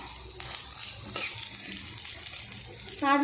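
Boiled rice is stirred together with cooked cowpeas in a pan, giving soft scraping and sizzling swishes of the spoon in irregular strokes, close and moderately quiet, with a brief clatter at the end.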